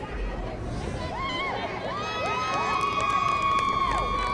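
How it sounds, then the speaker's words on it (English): Local crowd at a Jackson Memorial vs. Toms River North high school football game cheering and shouting steadily, with children's high-pitched yells and whistles rising over a dense, continuous roar of voices. "Local crowd cheering them on."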